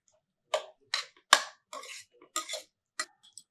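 Cauliflower pieces drop one at a time into a metal cooking pot for bisibelabath, each making a sharp clatter. About eight separate knocks come at irregular intervals, close and clear, against silence.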